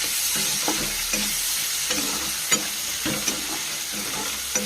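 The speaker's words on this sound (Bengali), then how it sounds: "এবার ফার্স্টে অ্যাড করছি পেঁয়াজ, অ্যাড করছি কাঁচা টমেটো, এবার ভালো করে নেড়ে নেবো।" Onion and raw tomato fry in a pan with a steady close sizzle, while a spatula stirs and scrapes in a regular rhythm with occasional light knocks against the pan, and no voices.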